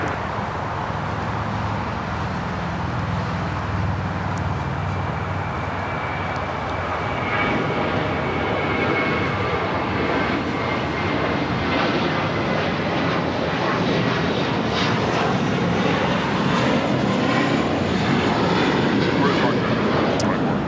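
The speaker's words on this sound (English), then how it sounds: "That flight heading to JFK, flight 1524. It's an A321." An Airbus A321 jet on flight 1524 to JFK at Los Angeles International Airport roars loudly, its engine noise building and sweeping past steadily over about twenty seconds.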